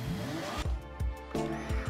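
In Gran Turismo, a car engine idles and is blipped in quick rev bursts, about three short punchy surges in under two seconds, close and clear.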